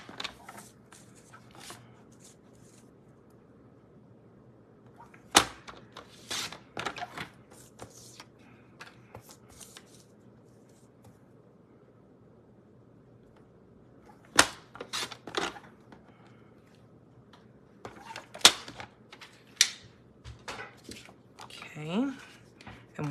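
Paper trimmer or scissors cutting cardstock for the inside panel of a handmade greeting card, a few sharp close snips and slides in separate bursts against a quiet room, with brief bits of talk.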